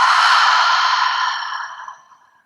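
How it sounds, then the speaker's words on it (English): A long, breathy exhale through the mouth during a morning yoga session, close and loud at first, then gradually fading as the air runs out, with no other sound. "Exhale out through the mouth, all the air out."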